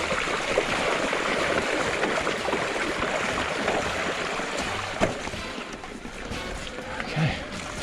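An Orbea Rise H15 mountain bike splashes through a stream crossing on a cross-country route in southern Snowdonia, with continuous close rushing water and spray and a couple of brief knocks.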